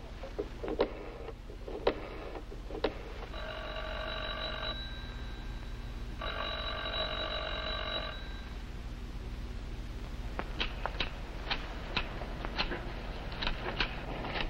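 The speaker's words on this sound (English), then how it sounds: "The phone's been ringing night and day" A telephone bell rings in two long trilling bursts in a radio drama set at a bungalow, heard over a low room hum with sharp ticking clicks before and after.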